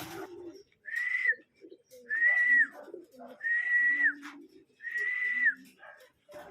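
Homing pigeons cooing close by, four drawn-out, wavering calls in a slow repeating pattern, with soft rustling and murmurs between them.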